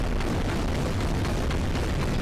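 Continuous rumbling explosions from the Goliath R Custom weapon in Global Defence Force, a dense, loud barrage of booms with no break.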